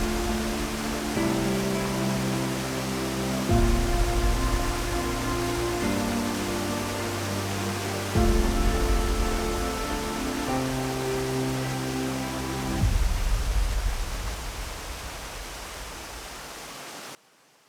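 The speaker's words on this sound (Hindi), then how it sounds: "वशिष्ठ गांव पार करके 2 छोटे वाटरफॉल पार करने के बाद ये मेन बड़ा वाला वाटरफॉल आया।" Roaring water of the Jogini waterfall near Manali, reached on a mountain trek past Vashisht village: a loud, steady broadband rush with shifting low tones throughout, fading out at the very end.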